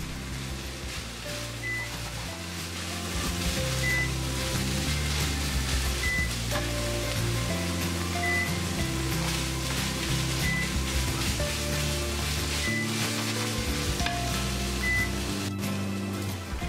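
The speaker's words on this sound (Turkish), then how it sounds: "1 yemek kaşığı domates ve yarım yemek kaşığı biber salçasını da ekleyip devam kavurdum." Minced meat with peppers and tomato paste fries in a pan with a constant crackling hiss, while a soft melodic background tune plays throughout.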